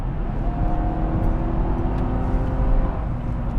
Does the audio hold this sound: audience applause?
no